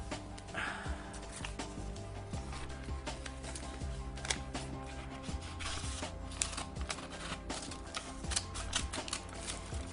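Rapid, uneven snipping and crinkling of scissors cutting through a paper envelope, close by, with steady low hum underneath.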